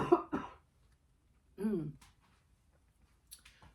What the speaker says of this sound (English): And I have to cough.